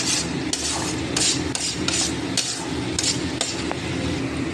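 A spoon scrapes and rubs against a cooking pan while spice masala is stirred and fried, a series of quick rasping strokes with light metallic clinks over a constant background sizzle.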